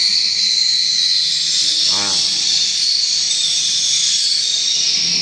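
Swiftlets inside a swiftlet house, a dense, continuous high chirping and twittering fills the space, with a brief lower rattling call rising near the middle.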